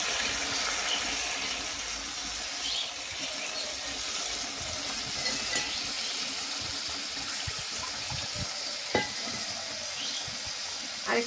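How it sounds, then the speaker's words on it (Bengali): Water is poured steadily into a bowl in an outdoor village kitchen, a continuous close rushing splash lasting several seconds with a few small knocks. "আর একটু জল দিয়ে দিচ্ছি যাতে খোসাগুলো নিচে পড়ে যায়।"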